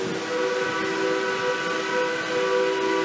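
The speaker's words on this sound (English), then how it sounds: "Whistle's blowing." A train whistle in Durango, Colorado, sounds one sustained, loud tonal blast with steady harmonics that holds for the full stretch without a break.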